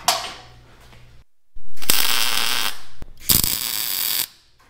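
Welding on the shroud of a Bombi vehicle, two loud bursts of harsh buzzing crackle lasting about a second each, separated by a short pause, following a quieter mechanical opening.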